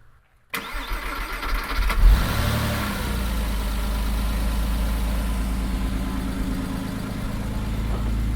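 A rough, neglected Porsche Boxster cranks briefly and fires up loud and close, its revs flaring before settling into a steady, slightly ticking idle that runs to the end.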